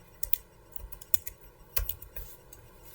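Close computer keyboard typing, a scattered series of crisp key clicks at an uneven pace while entering a search into a website input field, no talk.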